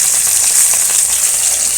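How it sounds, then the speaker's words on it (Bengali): Sarputi fish frying together in a hot kadai of mustard oil, a loud dense hiss of sizzling oil, steady and close-up with no speech. "সব মাছগুলো একসঙ্গে ভাজতে বসে দেবো"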